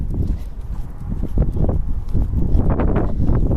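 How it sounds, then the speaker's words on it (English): Strong wind buffeting outdoors on a cold day, a loud, continuous low rumble and gusting roar close to the microphone, with faint rustling and soft footsteps mixed in. "The wind is blowing."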